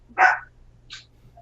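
Dog giving a single sharp bark, followed by a fainter second yip a moment later, heard close against a quiet indoor background with a low hum.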